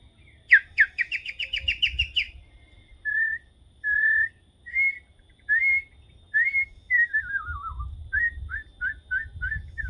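Birds sing outdoors in a series of clear whistled phrases, trills, and repeated chirps separated by brief pauses, with faint low background rumble.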